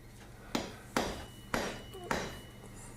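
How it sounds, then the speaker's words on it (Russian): Four sharp hammer blows strike a chisel to drive a wedge into an axe handle, spaced at an uneven pace, each a crisp close knock with a short ring. "Сейчас опять воспользуюсь стамеской и забью данный клин"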